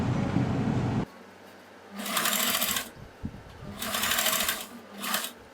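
A sewing machine stitches a kurti neckline in short bursts of rapid mechanical clatter, three runs of about a second each separated by pauses, after an opening stretch of louder noise.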